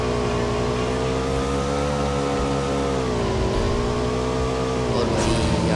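Motorbike engine in a PUBG-style battle royale game, a steady loud droning hum with slowly wavering pitch that holds throughout, rising slightly near the end.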